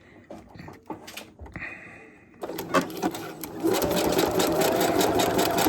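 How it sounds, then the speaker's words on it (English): A sewing machine stitching kite fabric, starting with a few handling clicks and short bursts before settling into a steady, close, rapid mechanical stitching rhythm. "And we're going to just sew up the side."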